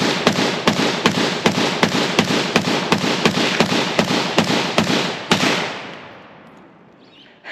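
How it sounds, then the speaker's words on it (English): A Swiss SiG SG552 rifle fires a rapid string of about twenty loud, close gunshots in a steady fast rhythm. A long echoing decay follows the last shot. "552, first shot."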